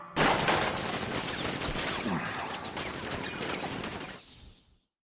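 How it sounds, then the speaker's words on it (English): Sentry gun turrets firing in Batman Arkham Knight, a sustained dense barrage of rapid automatic fire and shattering impacts lasting about four seconds before cutting off abruptly. "Activate sentry guns on my mark."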